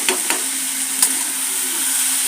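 Tomatoes for a village-style chutney fry in a pan with a moderate steady sizzle, punctuated by a few sharp ticks and pops early on.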